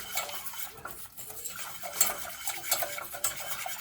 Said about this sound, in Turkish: 2 su bardağı sütümüzü boşaltıyorum. Ve 2 kaşık unumu koyuyorum. Güzelce bir